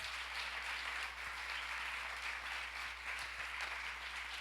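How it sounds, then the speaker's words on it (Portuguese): Congregation clapping during a Sunday morning youth congress church service, a steady, faint and distant wash of applause running throughout. "Dê um aplauso a Jesus."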